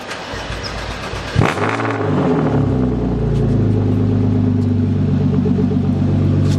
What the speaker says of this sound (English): About to do a cold start.